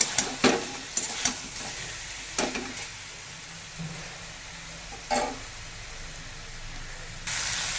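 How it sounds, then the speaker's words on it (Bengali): Spice masala for a vegetarian soybean and potato curry is stirred in oil in a pan, giving a steady sizzle broken by several sharp scraping strokes of the spoon, heard up close with no talking. "মশলাটাও আমার ভালো করে কষানো হয়ে গেছে, কেননা এই যে তেল ছেড়ে দিয়েছি।"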